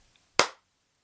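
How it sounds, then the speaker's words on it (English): A single sharp hand clap, the slow clap from the father in the 1992 film Strictly Ballroom, crisp and isolated against near silence. "It's the slow clap from his father."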